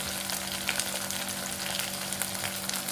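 Food frying in hot oil for dhaba-style shev bhaji makes a constant bright sizzle with small crackling bursts. It is close and steady throughout, with no talking.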